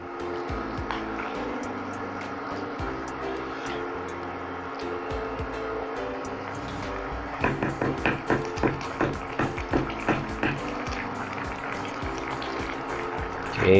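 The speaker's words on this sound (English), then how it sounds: "I'm just going to add some water." Water is poured into a pot of braising pork for lu rou fan, making a continuous close gushing and bubbling wash, followed by a series of rhythmic sloshing pulses and a louder splash at the end.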